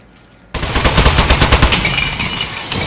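A gun turret in Aperture Desk Job fires a loud, rapid stream of shots that starts abruptly after a short quiet lead-in and then continues steadily to the end.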